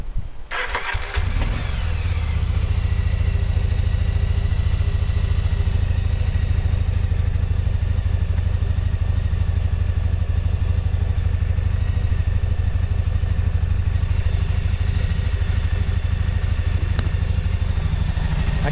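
A Yamaha Virago motorcycle that has sat unused for a while and has been hot-wired cranks and fires, then settles into a steady, loud, close, low-pitched idle that runs unbroken to the end.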